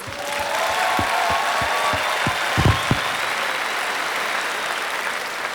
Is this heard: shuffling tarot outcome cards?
no